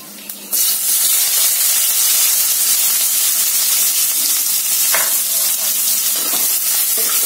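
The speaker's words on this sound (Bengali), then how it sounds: "কালো জিরাটা ভাজা হলে এর মধ্যে আমি পেঁয়াজ কুচি দিয়ে দিব" Chopped onion hits hot oil tempered with black cumin seeds, bursting into a loud, steady sizzle that fills the pan and holds for several seconds, with occasional stirring scrapes and no talk.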